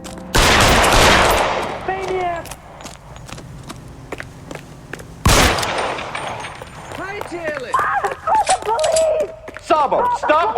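Gunfire from the video game L.A. Noire: two loud bursts of shots set apart by several seconds, with game voices, hoofbeats and footsteps moving around them.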